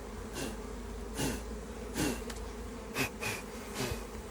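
Honeybees buzzing at a Langstroth beehive during an inspection, a steady close drone of many insects with louder swells as individual bees pass near.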